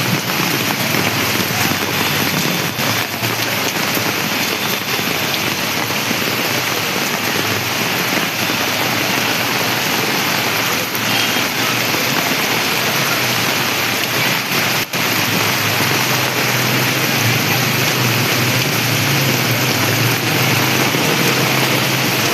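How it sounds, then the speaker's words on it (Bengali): Heavy rain pours down steadily at night at Gorabazar, a dense, continuous loud hiss of water on surfaces with no break throughout. "মারাত্মক বৃষ্টি হচ্ছে।"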